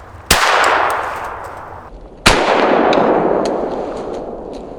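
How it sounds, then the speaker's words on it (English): Two sharp gunshots from a .22 LR rifle firing Norma EcoSpeed rounds at body armor, each a loud crack with a long ringing outdoor echo, about two seconds apart. "I just saw the bullet, it hit the armor and popped right back out."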